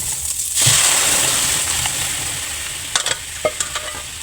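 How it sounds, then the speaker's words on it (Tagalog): Mung beans tumble into a frying pan with flaked fish, setting off a loud sizzle, followed by a spoon stirring and knocking against the pan. "So, ilagay na natin ang munggo."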